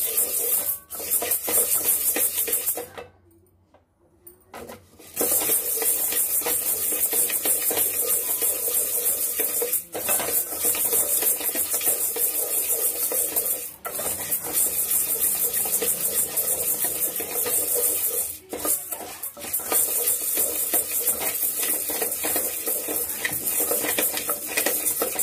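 Lentils roast in a pan while a spoon stirs them, making continuous close scraping and rubbing sounds with occasional metallic clinks and a brief pause, and no voices.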